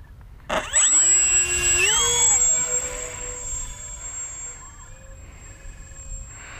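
Electric motors of a twin-prop RC plane with ESC brake whine in flight, a sharp start then sustained tones sweeping up and down in pitch, moderately loud and steady, without talk.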